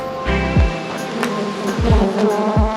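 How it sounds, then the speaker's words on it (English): Honey bees buzz around an open backyard hive during an inspection, a steady close hum with a few brief swooping tones sliding down in pitch. "Happy bees."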